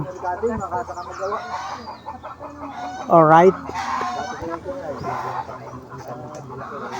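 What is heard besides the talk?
chickens clucking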